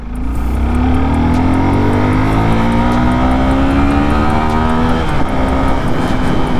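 A 2021 Suzuki Gixxer SF 250 BS6 motorcycle engine revs hard and steadily, its pitch climbing smoothly toward high RPM before easing slightly, loud and close with no voices.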